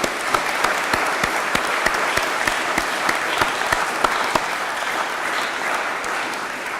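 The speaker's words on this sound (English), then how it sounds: "let's give them both a round of applause" Applause from an audience at a Feast of St. Ignatius welcome and farewell gathering: a steady round of clapping with one or two nearby hands cutting through as sharp, regular claps, lasting about seven seconds.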